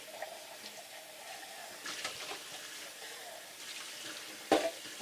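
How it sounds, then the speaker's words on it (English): Tap water rinses out an empty tomato can in a home kitchen, a low, steady running-water wash with a brief louder clatter near the end. "I try to do that, wash the can out."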